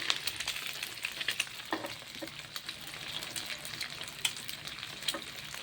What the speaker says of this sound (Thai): จะมาผัดข้าวกินนะคะ